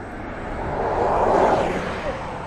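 Jumbo jet at East Midlands Airport during an evening show, a broad engine roar that swells to a peak mid-way and then eases, heard at a distance with faint voices.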